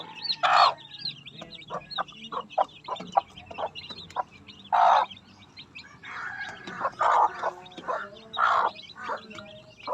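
Hen clucking up close with chicks peeping high and thin around her, repeated calls in irregular bursts at an outdoor yard.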